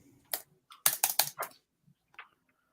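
Quick clattering keystrokes on a computer keyboard as messages are typed, a fast cluster of close, crisp taps followed by a couple of lighter clicks.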